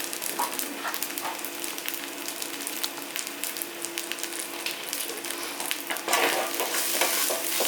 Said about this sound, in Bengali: গ্রেভির জন্য আমার মশলা সমস্ত কষানো হয়ে গেছে